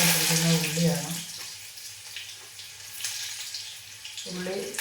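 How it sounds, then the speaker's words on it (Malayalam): Chopped onion drops into hot oil with popped mustard seeds for pineapple pulissery, giving a soft, steady sizzling hiss in the middle, with a voice talking before and after. "ഇതിനകത്തേക്ക് ഞാൻ ആദ്യമായിട്ട് ഇടുന്നത് ഉള്ളി, അരിഞ്ഞ് വെച്ചിരിക്കുന്ന ഉള്ളിയാണ്."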